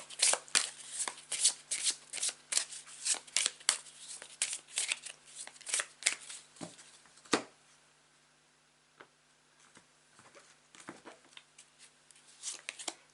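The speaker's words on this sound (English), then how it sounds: "whilst I shuffle the cards and lay them out on the mat" Tarot cards shuffled by hand in rapid crisp riffling bursts, close and clear, with a brief lull before the shuffling resumes.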